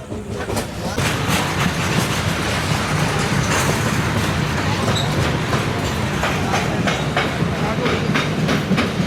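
Inside a crowded general coach of a local train running from Khopoli toward Vasai, a loud steady rumble with rhythmic clickety-clack of wheels over rail joints, continuous and close throughout.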